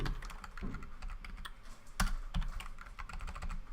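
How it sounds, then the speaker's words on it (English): Rapid clicking keystrokes on a computer keyboard, close and fairly loud, in an uneven stream with a sharper clack now and then. "I'm sorry if the typing's quite loud."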